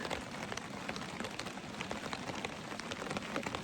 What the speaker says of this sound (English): On and off again rain.